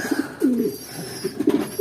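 Pigeons coo softly and repeatedly, low throaty calls in short bursts, fairly close with quiet background.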